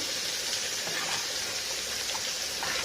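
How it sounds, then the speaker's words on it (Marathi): Water pours into a pot of moong dal in a home kitchen, making a steady, even gushing rush close by with no talking. "इथं मी वरणामध्ये पाणी टाकून घेतलेलं आहे"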